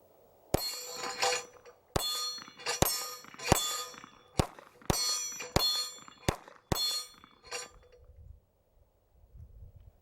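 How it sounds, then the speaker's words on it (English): Shots from a Ruger EC9s pistol fired at a hostage target on a range, about ten sharp cracks in an uneven series with brief gaps between them, loud and close, followed by quiet handling noise. "let's try to shoot the hostage target and hopefully not the hostage"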